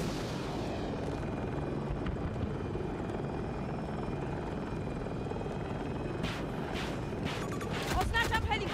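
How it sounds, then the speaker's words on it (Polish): Enemy helicopter in Battlefield 2042, a steady loud rotor drone running throughout with scattered gunfire or explosion-like bursts near the end, and players talking over it. "Oznaczam helikopter wroga!"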